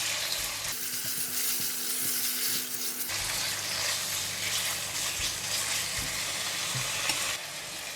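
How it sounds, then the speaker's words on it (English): Pork shoulder meat stir-fries in a pan for a braise with winter melon, giving a close, continuous sizzle that grows louder and denser partway through as the meat is stirred around, heard alone. "Now I'm putting in the meat. Going to stir fry the meat."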